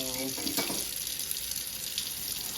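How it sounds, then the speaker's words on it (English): Hot water pours into a cup with a steady, bright splashing hiss that lasts a couple of seconds, close up and moderately loud. "There's a little hot water going in there."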